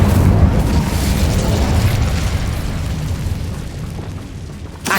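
The Incendio fire spell goes off in Hogwarts Legacy as a loud, deep explosive boom that bursts at once and then rumbles and slowly fades over several seconds.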